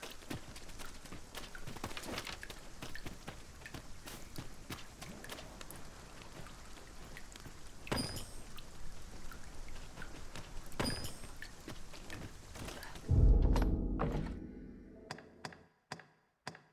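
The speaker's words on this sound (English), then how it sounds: "Shall we prop up our tent and get out of the rain for a spell?" Rain patters steadily outdoors in the video game Dragon's Dogma 2, a soft continuous hiss broken by scattered louder drops and taps. Near the end it swells into a brief heavier rush, then gives way to near silence and a few isolated ticks.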